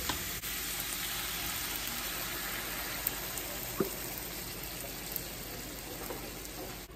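Shrimp cooks in a pan as salsa is added, and a soft, steady sizzle and crackle continues throughout. A few small pops and clinks rise above the quiet frying hiss.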